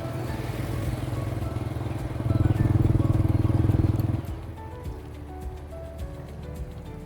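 A motorcycle engine hums steadily while riding on a road in Laos, swelling louder for a couple of seconds as it revs, then settles back to a lower drone under road noise.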